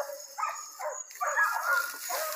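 Hunting dogs just released on an armadillo hunt whimper and yip faintly in the distance, giving short, scattered cries over quiet outdoor background.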